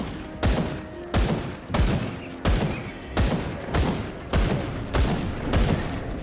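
In the Grim Dawn video game, a mortar fires again and again: about ten heavy booming blasts at an even, rapid pace, each followed by a short rumbling tail.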